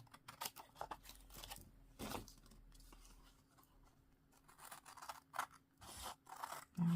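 Scissors snipping through card while making a handmade greeting card, a series of short close crisp cuts and rubbing scrapes with quiet pauses between them.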